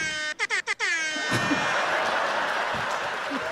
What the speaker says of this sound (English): Is that your air horn app?